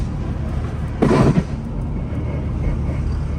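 A car rolls along after an eyeball wheel alignment, its steady road rumble and engine drone briefly swelling with a louder burst of tire and road noise before settling back to an even drive.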